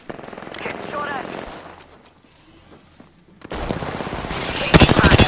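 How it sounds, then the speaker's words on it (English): Gunfire in the Apex Legends video game: bursts of rapid automatic shots, loud and close, with dense rattling volleys toward the end after a brief quieter gap. "I am taking fire, friends."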